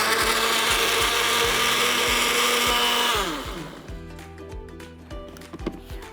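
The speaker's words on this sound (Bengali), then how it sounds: "এবারে আমি ব্লেন্ড করে নিচ্ছি।" A kitchen blender whirs loudly through a banana smoothie with ice cream, its motor running steady for a few seconds, then winding down and stopping, leaving faint clinks and quiet.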